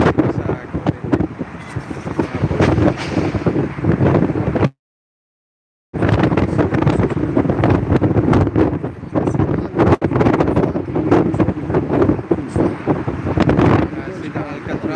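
Strong wind at the Golden Gate in San Francisco buffets the microphone with loud, continuous rumbling gusts for the full length, broken only by one brief dropout to silence.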